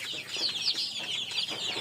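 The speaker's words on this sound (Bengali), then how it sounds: "আমার স্বপ্নের খামারে এই টাইগার মুরগি বাচ্চাগুলো, তাদের বয়স হচ্ছে 25 দিন এবং 15 দিন বয়সী বাচ্চা রয়েছে এখানে।" Tiger-breed chicks, about 15 and 25 days old, peep on a farm with a steady chorus of shrill, overlapping cheeps close by and no talking.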